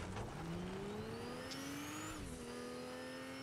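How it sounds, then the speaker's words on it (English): A car engine in the Fortnite video game revs steadily and rises in pitch as it accelerates, then shifts down slightly. It runs loud and continuous with no talking. "Boba Fett's jetpack turned into a car"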